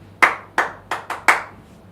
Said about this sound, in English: Clapping a rhythm for students to join in with also works well to gain attention.